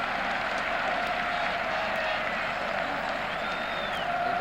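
Cricket crowd at Lord's clapping a difficult catch during the 1981 Benson & Hedges Cup final between Somerset and Surrey, a broad distant wash of steady applause that carries through without a break.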